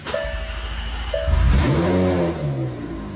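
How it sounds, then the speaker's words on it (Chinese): A McLaren 720S engine fires up after being refurbished with its wiring harness reconnected, a starter whine rising into a loud rev that settles toward idle, close and alone. "发动机瞬间完成启动"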